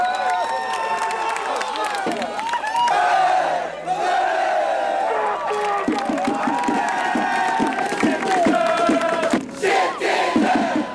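A large stadium crowd of football fans roars and cheers continuously after a 5-2 win, with clapping and shouts mixed into the loud, sustained din.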